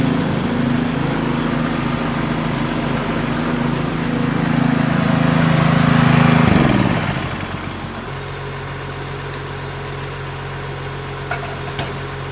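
A farm chemical sprayer's pump engine runs steadily with a droning hum, then slows as it idles down midway and settles into a lower, quieter idle.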